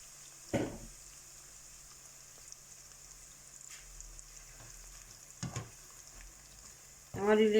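Onions fry in a pan on an electric cooker with a quiet, steady sizzle, broken by a few sharp clatters of stirring and a short burst of talk at the end.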